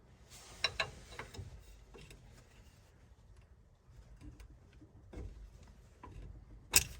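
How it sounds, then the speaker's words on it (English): Tools work on the tie rod pin of a Ford F150 4x4 front axle, giving sparse metallic clicks and ticks with a few sharper taps, fairly quiet and close. "So we're going to remove this pin."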